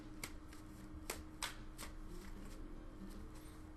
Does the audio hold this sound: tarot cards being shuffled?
yes